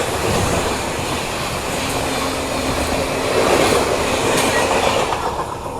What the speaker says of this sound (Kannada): ನಮಗೀಗ ಅಪೋಸಿಟಲ್ಲಿ ಜಿಂಗ್ ಆಗ್ತಾ ಇರೋ train Yeshwanthpur super fast express